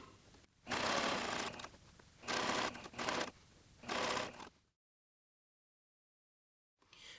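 A domestic sewing machine back tacks at the side seam of custom pants, running in four short close bursts of steady stitching separated by brief pauses, then falling silent before a faint restart at the end.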